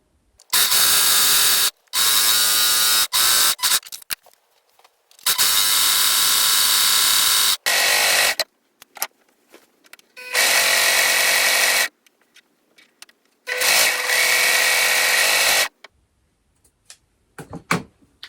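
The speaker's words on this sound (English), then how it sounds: "So I've sewn up both of the side seams with the overlocker" An overlocker serges the side seams of a skirt in several bursts of loud, steady mechanical whirring, each running a second or two, separated by short pauses and quiet handling noises.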